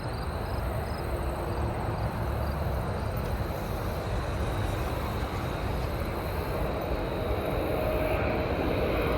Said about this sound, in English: Oh, I hear a plane.